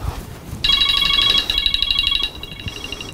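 Mobile phone ringtone signaling an incoming call in a home, a bright electronic melody that starts abruptly and rings loudly and close for about two seconds before stopping.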